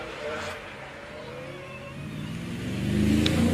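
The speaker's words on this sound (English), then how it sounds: "Another TR7 V8 or TR8 if you're that way inclined" A Triumph TR7 V8 at the Prescott hillclimb accelerates with a mid-pitched engine note that swells louder toward the end, under a commentator's voice.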